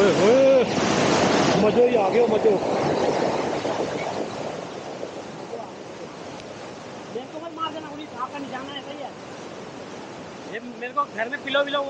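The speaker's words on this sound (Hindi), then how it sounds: "पानी की आवाज यहाँ पे बहुत ज्यादा है" Loud rushing water at a riverside spot near Dehradun, a steady broadband roar filling the whole clip, with voices talking over it here and there.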